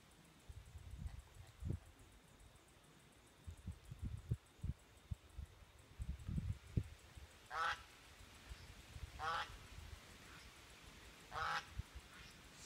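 Geese on a farm honk in a few brief, distant nasal bursts spaced a couple of seconds apart over quiet outdoor rustling and low thumps.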